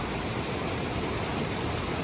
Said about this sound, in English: this is a very, very steep waterfall